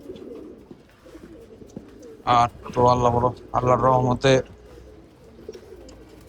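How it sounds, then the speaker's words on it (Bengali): Racing pigeons coming to feed coo softly and steadily in the background, while someone speaks loudly nearby for a couple of seconds over them. "কবুতর গুলারে খাওয়ান দিলাম, খাইতে আসে"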